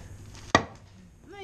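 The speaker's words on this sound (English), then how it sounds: "Stace, I couldn't even chop that log." A single sharp chop at a log beside a fire, one close, loud thwack with a short ring-off, followed by a faint rising tone.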